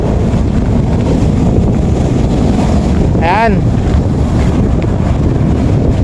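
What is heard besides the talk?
waves and wind at Manila Bay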